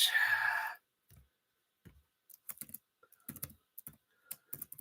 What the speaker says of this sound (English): Concentrate on typing in the password and also not saying it out loud as I type